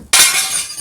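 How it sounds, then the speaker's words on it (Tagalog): A ceramic plate is smashed: one sudden, loud crash with bright shattering that rings out and scatters into fragments over under a second, with no talking. "Babasag tayo ng plato."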